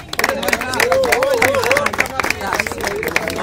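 Crowd applause and cheering at a freestyle rap battle in the round of sixteen, a dense burst of clapping with voices shouting over it, steady for a few seconds.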